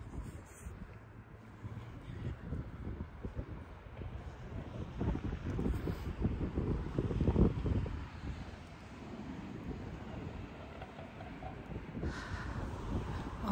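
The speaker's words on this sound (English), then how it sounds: "The wind is still blowing." Cold wind blows outdoors and buffets the microphone with a steady low roar, rising into stronger gusts midway and easing off toward the end, with no voices over it.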